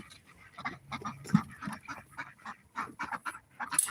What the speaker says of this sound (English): these are our ducks